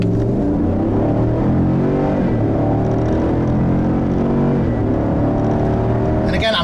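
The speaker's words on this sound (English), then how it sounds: "I'm liking the way that small block V8 sounds" A 2015 Cadillac Escalade with a small block V8 and 22-inch wheels accelerates, its engine note climbing and falling through gear changes in a loud, continuous in-cabin roar.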